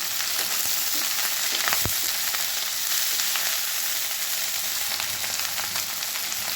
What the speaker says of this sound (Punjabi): ਹੁਣ ਅਸੀਂ ਇਹਦੇ ਚ ਪਾ ਦਾਂਗੇ ਕੱਟੀਆਂ ਹੋਈਆਂ ਪਿੰਡੀਆਂ ਇਹਨਾਂ ਨੂੰ ਚੰਗੀ ਤਰ੍ਹਾਂ ਫਰਾਈ ਕਰਾਂਗੇ